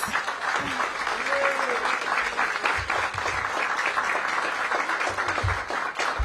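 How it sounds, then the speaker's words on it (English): A crowd claps steadily at a ribbon-cutting for a city stabilization center, sustained applause with scattered sharper claps and some voices underneath. "Give Eric a big round of applause."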